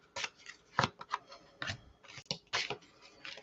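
Oracle cards being mixed by hand, giving a string of short papery riffles and slaps in uneven bursts, close and fairly quiet, with no talking.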